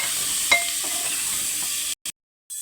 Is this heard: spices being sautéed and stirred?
yes